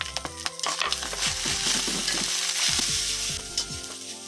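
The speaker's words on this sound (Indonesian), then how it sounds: "Ini aku masak nasi gorengnya yang simpel aja." Spicy nasi goreng sizzles loudly in a pan while a spatula stirs and scrapes it in steady, uneven strokes, with no talking.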